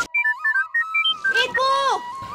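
Phone ringing with a repeating melodic ringtone while a call goes unanswered, several short evenly spaced tones, then a voice talking over the ringing.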